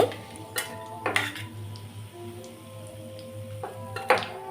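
Fried chicken pakoras being lifted one by one out of a frying pan, with sharp metallic clinks and scrapes of a utensil against the pan at irregular intervals over a low background hum, close and without talk.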